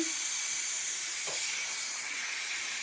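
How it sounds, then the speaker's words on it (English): Steam hisses steadily from the pressure release valve of an Instant Pot cooking mac and cheese, a loud, continuous close rush with a faint brief click partway through. "It was on pressure, now it's on pressure release. And you just wait for all the pressure to come out."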